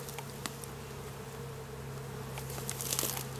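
Honeybees buzz steadily around an open beehive during an inspection, a continuous droning hum close by with denser bursts of flight noise toward the end.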